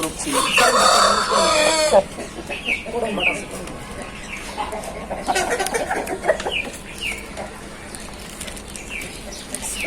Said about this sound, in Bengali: মোরগটা আমার খুব পছন্দের একটা